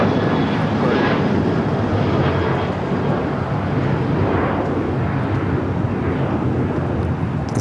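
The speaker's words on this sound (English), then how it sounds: "This is a China Airlines cargo 777 freighter touching down on the 25 left." China Airlines cargo Boeing 777 freighter touching down on runway 25 left at LAX, a loud, steady roar of jet engines with wind rush, continuous throughout.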